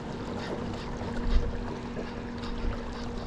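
Motorized fishing kayak running under throttle on open water near a long bridge, a steady low engine hum with a constant tone, water and wind noise throughout, brief swells of splash.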